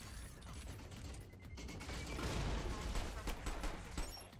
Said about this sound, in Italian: Ricarica.